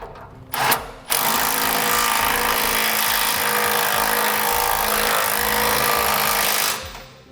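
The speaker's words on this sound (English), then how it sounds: "We'll hold this bolt still here with the 3/4 inch socket or wrench, then tighten down the nut." A tool drives a 3/4-inch socket to tighten a nut during a gooseneck hitch installation on a 2008 truck, making a loud, continuous mechanical whir that runs for several seconds after a short start and then stops.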